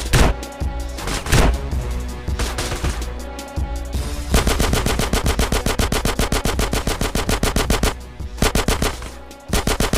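Gunfire in the video game GTA San Andreas, loud close bursts of automatic weapon fire, a few scattered shots followed by long, rapid, steady machine-gun strings with brief pauses between volleys.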